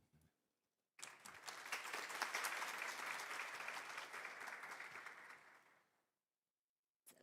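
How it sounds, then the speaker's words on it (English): An audience at a formal conference session in Seoul gives a round of applause, a dense, steady burst of many hands clapping that begins abruptly, holds for about five seconds, then tapers off into silence. "let's give a round of applause and invite her to begin her presentation"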